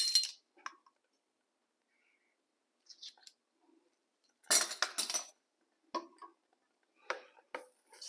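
A utensil stirring butter and maple extract into a cake glaze in a bowl, giving sparse faint clinks and taps separated by quiet pauses, close and isolated.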